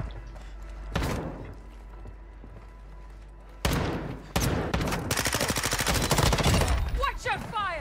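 Gunfire in the Call of Duty DMZ video game: a short burst near one second, then dense rapid automatic fire over the last few seconds, loud and close, with voices talking around it.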